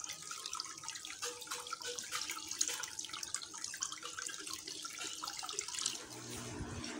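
Tap water runs steadily into a sink while raw chicken is washed by hand, a continuous close splashing hiss with small sloshes, no talking.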